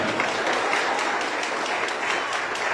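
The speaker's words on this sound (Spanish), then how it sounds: "brindarle un fuerte y bonito aplauso al Rey de Dios" Church congregation applauding during a worship service, a loud, sustained and even roar of many hands clapping throughout.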